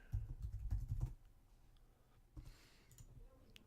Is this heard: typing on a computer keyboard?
yes